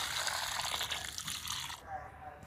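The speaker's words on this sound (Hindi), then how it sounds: "अब इसमें मैंने पानी डालना है" Water pours into clay soil while a village-style mud stove is being repaired, a steady splashing gush that stops abruptly near the end.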